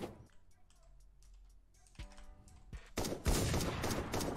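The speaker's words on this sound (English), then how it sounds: "Am I getting shot at? Yeah, those turrets are so annoying." Turret gunfire in the game Minecraft Rust: fast clicking volleys of shots that start faint and distant, then swell into a louder dense burst near the end.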